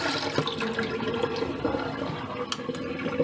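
Dirty cleaning water from washing a living room floor pours and gurgles down a drain, a continuous rushing splash with scattered drips and faint clinks, fairly quiet and close.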